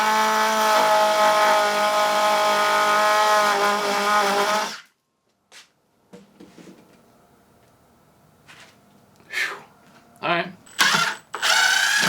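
Power drill from an As Seen On TV tool set driving a screw into wood, a loud sustained whir for about five seconds, then short bursts after a pause, with a brief spoken word.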